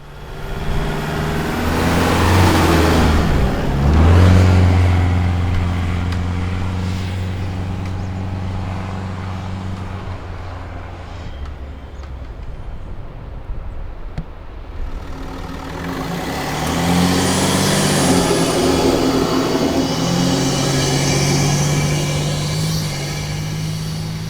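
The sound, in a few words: Ford Ranger and Isuzu D-Max 4WDs driving up soft sand dune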